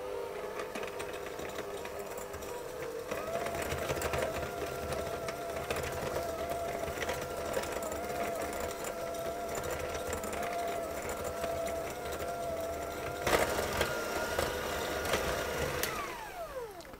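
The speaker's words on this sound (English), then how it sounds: "So I'll put the butter and the sugar into my bowl and I'll mix those together." An electric hand mixer beats butter and sugar together in a bowl with a steady, close mechanical whir that drones on. Its pitch rises slightly partway through, with a brief clatter near the end before the motor winds down.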